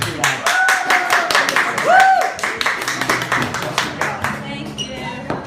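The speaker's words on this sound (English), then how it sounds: "Another round of applause for Amy." At an Autism Speaks fundraiser, the crowd claps for a speaker named Amy, a crisp and close burst of many hands. A voice speaks over it and a brief whistle rises in the middle before the clapping fades.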